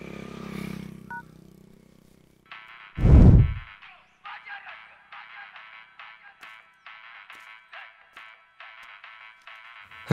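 A mobile phone left behind rings with a repeating electronic ringtone in short regular bursts, following a deep thud and some clatter, with a brief voice near the start.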